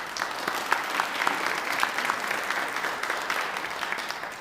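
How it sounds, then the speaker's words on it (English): An audience at an evening artist talk claps together in a steady round of applause, moderately loud and continuous, with individual claps popping out now and then. "Let's give them a round of applause."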